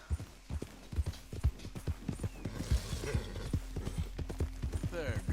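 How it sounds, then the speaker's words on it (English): Rhythmic hoofbeats of a horse in Red Dead Redemption 2 thud clearly and close, an uneven trotting pattern with game ambience and a brief voice-like sound near the end. "llamar a mi caballo que venga"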